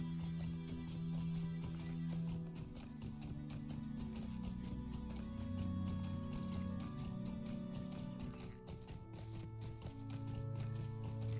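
A horse galloping in the online game Lord of the Rings Online, a steady patter of hoofbeats running under a continuous low droning music bed, moderately quiet and without any voice.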